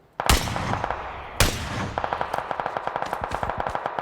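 Gunfire in the battle royale video game PUBG: two loud, close single shots, then a steady rapid burst of automatic fire lasting a couple of seconds, alone without talk.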